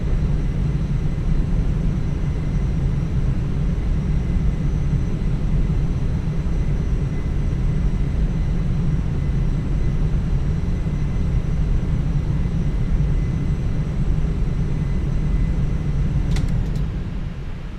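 Boeing 737 MAX 8 jet taking off in a flight simulator game, a loud continuous engine roar and rumble holding steady throughout, with no talk, tapering slightly at the very end.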